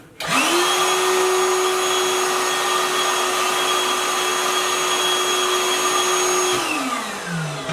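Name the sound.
Ryobi P3240 project vacuum running, used as a blower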